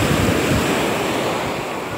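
Strong sea waves breaking on a beach at Stalida, Crete, a loud, continuous roar of surf with wind buffeting the microphone.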